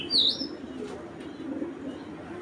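Purebred Pallar pigeons, kept in a collector's loft, give a low, steady cooing throughout, with a brief higher chirp near the start and a soft rustle of movement close by.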